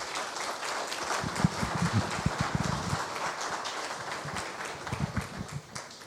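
An audience at a talk bursts into applause, a dense patter of many hands clapping in a room that swells, thins and picks up again over several seconds.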